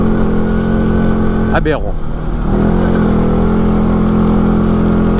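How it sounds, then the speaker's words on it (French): A CF Moto 520L quad runs off-road through a forest with a steady, loud engine drone. Its pitch rises as it accelerates through a bend, and a voice speaks over it. "Tu peux te permettre d'accélérer dans le virage, comme ça le quad il se reprend bien"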